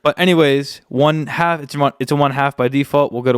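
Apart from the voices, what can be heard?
No everyday noise stands out behind the speech.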